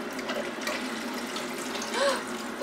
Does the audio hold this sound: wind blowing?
no